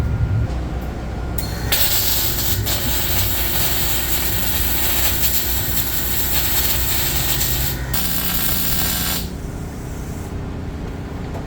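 Welding on a car part at a race track: a loud, close, steady crackling hiss runs in long unbroken stretches, stopping briefly and restarting once before cutting off, with a duller hum underneath.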